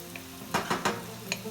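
Chicken sizzling in a pan for penne alla vodka: a steady close sizzle with three quick scraping stirs in a row, then another light scrape shortly after.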